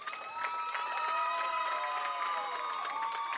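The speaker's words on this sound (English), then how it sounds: "The fans cheering them on in the final moment" Fans cheer and clap at a high school bowling team championship in Wisconsin, a steady crowd roar with scattered shouts and applause continuing throughout.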